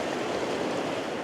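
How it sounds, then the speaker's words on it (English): Ocean waves surging against rocks on a moody New Zealand coastline, a continuous broad rushing wash of water, close and steady without distinct breaks. "waves coming in now"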